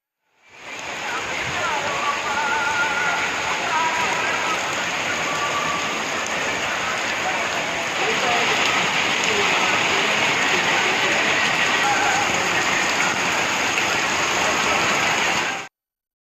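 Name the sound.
heavy rain at night with thunder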